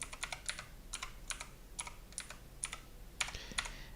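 Light, quick keystrokes tap on a computer keyboard in short irregular bursts, quiet and close, with no voices.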